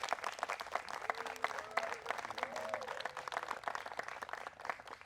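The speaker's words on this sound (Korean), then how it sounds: "박수로 환영해 주십시오" Wedding guests applaud the newlyweds at a church ceremony, a fairly faint, steady patter of many hands from across the room, with a few murmured voices underneath.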